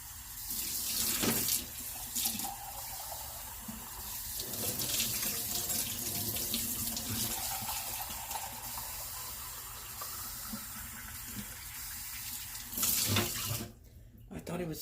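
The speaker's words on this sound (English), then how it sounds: "Always rinse your frother out as soon as you're done with it." A tap runs steadily over a milk frother being rinsed in a sink, a continuous close splashing wash of water that cuts off near the end.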